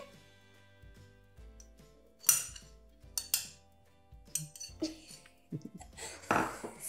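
A spoon clinks and scrapes against a bowl while cookie dough with butter and a pinch of salt is mixed, giving irregular close knocks and clatters that grow busier toward the end.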